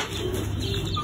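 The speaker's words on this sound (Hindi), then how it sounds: "ये चेक करो कबूतर खाने आ गए" Pigeons arrive to eat scattered plain rice, giving a brief moment of close wing flutter and soft cooing and chirps.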